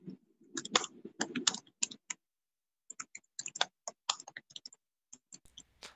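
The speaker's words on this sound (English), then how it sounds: "I think I can hear you typing." Rapid typing on a computer keyboard, irregular bursts of clicky keystrokes with brief pauses, fairly close and clear.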